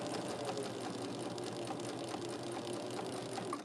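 A sewing machine runs continuously and close by, stitching a quarter-inch seam on a calico quilt block, its steady mechanical whir unbroken from start to finish.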